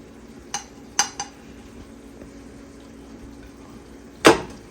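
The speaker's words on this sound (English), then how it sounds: "Take our pasta, put it on our plate." Pasta being set onto a plate in a home kitchen, with a few light clinks of utensil against the dish early on and one sharper clatter near the end, all fairly quiet.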